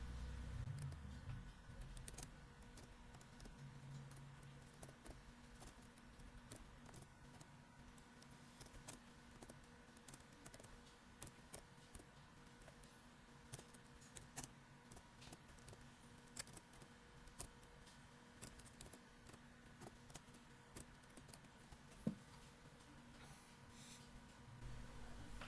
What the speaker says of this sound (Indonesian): Kita ketikkan dulu barisan kodenya.